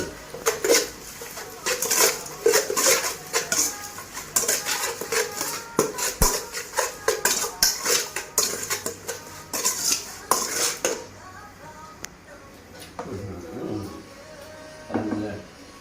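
A spoon scrapes and clanks against a metal pot while food is stirred, in rapid, irregular knocks for most of the stretch, quieter for the last few seconds.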